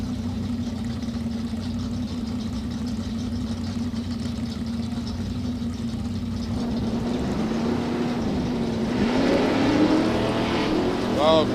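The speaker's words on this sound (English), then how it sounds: "Oh, green light drag race" Drag racing cars launch at the green light at a drag racing event: a steady loud engine drone and roar swells, with a rising engine note near the end as the cars pull away, heard without talking.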